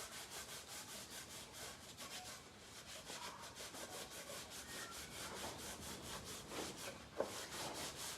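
Steady back-and-forth rubbing on painted wood during wet distressing, worn through to layers of green and purple paint, a continuous rhythmic scrubbing close by with one sharp knock near the end.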